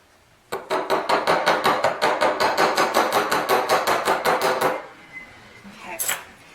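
A hammer strikes steadily on a metal rivet to flare its head, about twenty-five sharp, ringing blows in an even rapid rhythm, close and loud, before stopping and leaving a few faint clinks.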